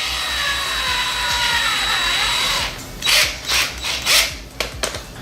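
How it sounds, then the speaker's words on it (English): A power drill bores through a plastic GoPro adhesive mount, a steady whirring drone for a few seconds that breaks off into short, uneven bursts of grinding as the bit bites and stops. "You're going to want to drill right at the tip of the point."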